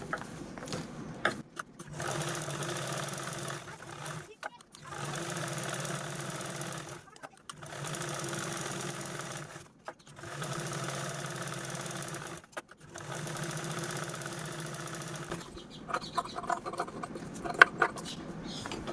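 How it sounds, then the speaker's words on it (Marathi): A sewing machine stitches crosswise quilting lines on fabric in four or five even runs of close, rapid whirring, each separated by short pauses, with someone speaking now and then. "यावरती मी पुन्हा अशा आडव्या आडव्या टिपा पण मारून घेते"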